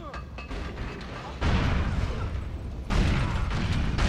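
Two heavy explosions boom out in GTA 4, each hitting suddenly and then rumbling on, with quieter clatter and debris noises between them.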